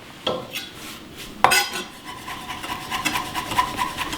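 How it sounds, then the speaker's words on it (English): A knife chops a mixture of sage, rosemary and thyme finely on a board, giving soft scraping rubs and a couple of sharper taps, close and fairly quiet. "we'll take the same sage, rosemary, and thyme mixture and chop it up finely"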